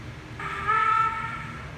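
One short, shrill steam-whistle toot from a model BR 50 German steam locomotive, brief and moderately loud over a low background hum.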